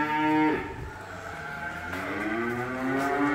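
Limousin and Simmental cattle at a livestock stock farm give long, deep moos, one call fading and another rising, heard nearby with no voices.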